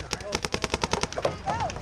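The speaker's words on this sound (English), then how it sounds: "Suppressive fire." Fast repeated bursts of suppressive fire in an airsoft game snap in a rapid, even rhythm close by, with faint voices mixed in behind the shots.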